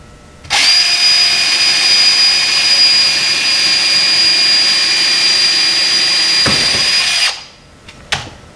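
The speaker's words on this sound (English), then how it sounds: "I'm going to take my drill and drill there's 3 bolts." A power drill whines steadily at high pitch for several seconds, loud and close, drilling a bolt on a pole barn floor, then stops abruptly, followed by a couple of brief clicks.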